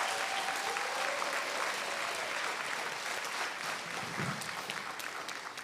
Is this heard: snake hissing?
no